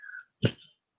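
A single sneeze bursts out during a live online discussion, sharp and loud at its onset before trailing off quickly, just after a faint breathy sound.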